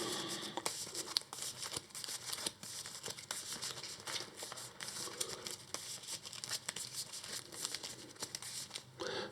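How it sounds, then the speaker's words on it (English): A deck of board game challenge cards is shuffled close up, a dense run of rapid papery riffles and crinkly flicks lasting several seconds with brief pauses. "we have to shuffle the challenge deck"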